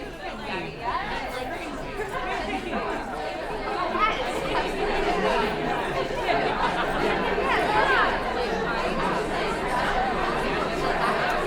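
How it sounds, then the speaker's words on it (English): A dense, synthetic crowd murmur generated with Krotos Studio Crowd Generator, a continuous babble of many overlapping indistinct voices holding at a steady, fairly loud level and thickening slightly midway through. "run this, and generate a crowd sound of a suitable duration"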